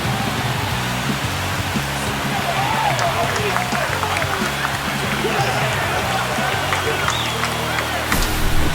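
In MLB 25 The Show, a baseball stadium crowd roars and cheers after a home run, a dense, sustained wash of noise that swells near the end, with commentators talking over it.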